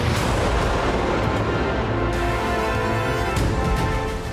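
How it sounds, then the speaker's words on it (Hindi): Russian RBK-500 cluster bombs strike Robotyne in the war in Ukraine, producing a loud, continuous roar of overlapping explosions with several sharper blasts standing out. "रोबोटाइन में इस क्लस्टर बम के प्रहार के बाद एक साथ कई धमाके हुए और बड़े इलाके में तबाही मच गई"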